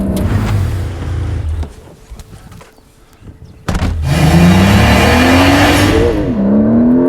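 A Porsche 911 pulls away and accelerates, its engine note rising loud and close after a brief quieter idle.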